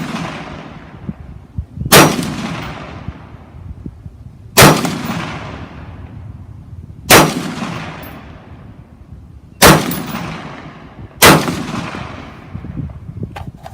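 Five loud, sharp MK12 MOD1 rifle shots fired at a measured pace a couple of seconds apart, each with a long rolling outdoor echo, and no talking.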